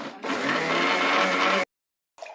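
An electric mixer churns buttermilk with a strong, even whirring for about a second and a half, then cuts off abruptly, with a brief burst of noise after the pause.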